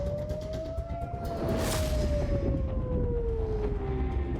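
Air raid warning sirens sounding across Israeli cities, a single long wailing tone that slowly rises and then falls, ringing steadily at a distance over a dense background rumble.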